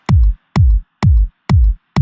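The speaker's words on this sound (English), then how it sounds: "just a simple kick, and it sounds like this." A simple electronic kick drum hits five times at a steady, even pace, each a deep, punchy thump with a short decay and silence between.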